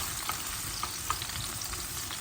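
Steady crackling sizzle of eggplant frying in a pan, with scattered pops and light spatters throughout.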